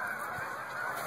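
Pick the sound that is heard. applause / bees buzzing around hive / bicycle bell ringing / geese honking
geese honking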